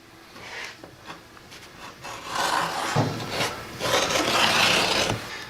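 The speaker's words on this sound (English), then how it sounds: "we're just gonna use a standard razor knife, and we're gonna slice it into strips" A standard razor knife slices through pig skin into strips for rendering lard, giving close, rasping scrapes that grow louder and longer toward the end, with no talking.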